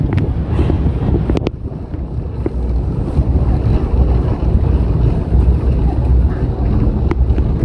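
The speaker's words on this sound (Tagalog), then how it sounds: "malakas yung hangin" Strong wind roars continuously across the microphone in a heavy, steady rush, with a couple of sharp knocks early on.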